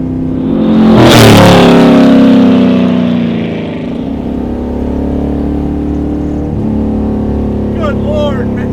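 A 600 HP 1972 Corvette autocross car built by Detroit Speed roars loudly as the engine revs up and then settles into a deep, steady drone, with voices talking over it.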